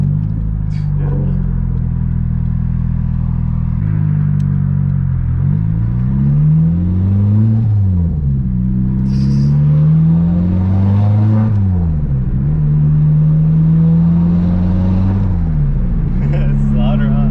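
A Nissan 240SX with a turbocharged KA engine revs loudly and repeatedly, rising and falling in sweeping waves over a constant heavy rumble, close and continuous, with a few pops.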